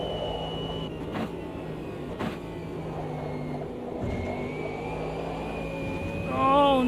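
A GT3 race car engine in a sim racing game hums steadily at moderate volume. The throttle is held gently, with a few tonal shifts and a faint rise near the end.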